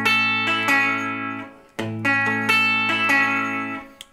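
An electric guitar plays the picking pattern from a song: a clear, ringing run of plucked notes, alone and close, with a short break midway before the pattern repeats.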